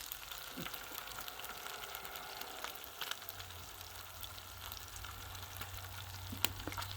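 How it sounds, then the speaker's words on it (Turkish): Continuous crackling sizzle of anchovies frying in hot oil on a metal griddle outdoors in a garden, fairly quiet, with occasional sharper pops and a low hum joining partway through. "Yağda hemen iki dakikada kızartıyor."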